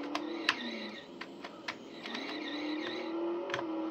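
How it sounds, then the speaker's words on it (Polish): Cars bump and scrape against each other in the Skidmarks racing game on an Amiga 1200, short sharp knocks and clicks scattered over a thin, whining engine drone, at modest volume with no talk. "A tutaj też słychać odgłosy. Jak na przykład pukanie się samochodów."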